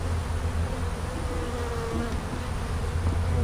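A small honeybee swarm buzzes close around a hive box, a dense continuous drone of many wings, steady and fairly loud with no voices.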